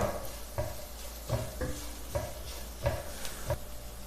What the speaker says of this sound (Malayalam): പൊടികളുടെ എല്ലാം പച്ചമണം മാറി വരുന്നത് വരെ നന്നായിട്ട് ഇളക്കി കൊടുക്കാം